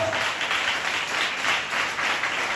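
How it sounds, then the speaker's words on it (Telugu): A church congregation claps loudly in a steady rhythmic beat, a thick sustained patter of many hands that lasts a few seconds without speech. "చప్పట్లు కొడతాం గట్టిగా,"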